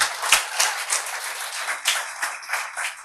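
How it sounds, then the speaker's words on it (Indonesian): A church congregation claps in scattered, uneven bursts, a handful of sharp hand claps at close range with gaps between them and no speech. "Jangan malu-malu, kasih tepuk tangan buat Tuhan dong."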